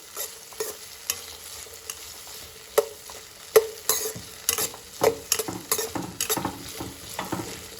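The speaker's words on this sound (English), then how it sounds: "saute them for about 2 minutes, but you have to take care that they do not lose their color." Vegetables sautéing in a pan over low heat for fried basket noodles with white vegetable sauce, a soft steady sizzle broken by repeated sharp scrapes and clicks of a stirring utensil, close and alone without talk.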